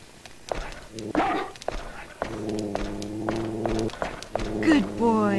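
Dog barking inside the horror video game Haunting Ground, several short barks spread across the moment, mixed with game sounds, thuds and a player talking over it.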